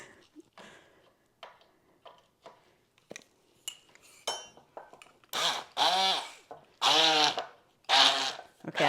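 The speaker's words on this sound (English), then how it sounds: "Take my immersion blender." An immersion blender runs in short, loud whirring bursts as it purees cooked beans in a pot, after some lighter clinks and handling sounds, with a voice talking early on.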